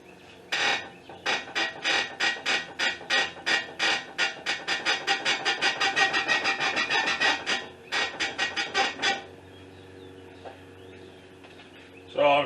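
A 2005 Honda Accord's front suspension, with a suspect lower control arm, creaks and clunks in a rapid series of repeated knocks as the steering wheel is turned back and forth, close and loud, then a pause and a final burst.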